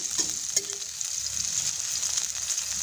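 Shrimp fritters fry in oil over medium-low heat, giving a steady close sizzle as they are turned, with a couple of light utensil clinks and no voices.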